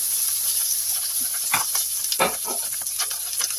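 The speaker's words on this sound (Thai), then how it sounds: "กระทะก็เริ่มร้อนแล้วนะคะเนยก็เริ่มละลายแล้วค่ะ" Butter sizzles in a hot pan for Kaiserschmarrn with a steady, bright hiss and occasional soft pops and spatters, close by and without any voices.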